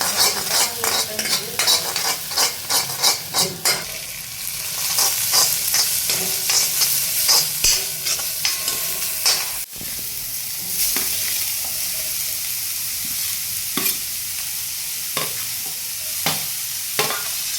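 Shredded cabbage stir-frying in oil for homemade momos, loud and close, with rapid rhythmic spatula strokes rattling against the pan over a constant hiss of frying.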